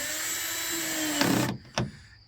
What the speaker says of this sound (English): the clutch on the drill prevents it from over tightening